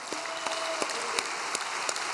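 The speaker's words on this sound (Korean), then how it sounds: "우리 축하의 박수 올립시다." A gathering claps in congratulation after a poem is read, a sparse scattering of distinct handclaps at a moderate distance over a low steady hum.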